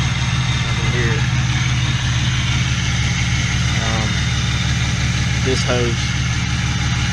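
A straight-piped Z4 with headers idles loudly on its first start with a new motor, a steady rumbling drone that runs throughout while someone talks over it.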